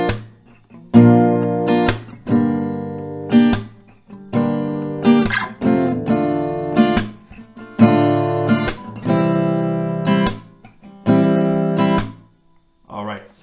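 Guitar strums the chorus chord progression of a song, rhythmic strummed chords in repeating bursts, close and fairly loud.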